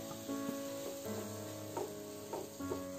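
Tomatoes go into a pan of lightly cooked vegetables for a winter vegetable soup, giving a soft sizzle with a few stirring bursts over steady background music.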